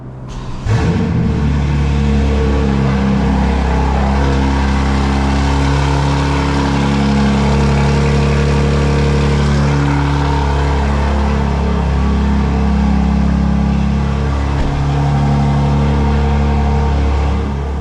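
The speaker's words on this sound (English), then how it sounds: "Burbles are on, and I'm going to start the car." 2024 BMW M4 Competition (G82) engine starting in full sport mode with exhaust valves open: a sharp crank and loud bark, then a deep, rumbling idle that holds steady for many seconds.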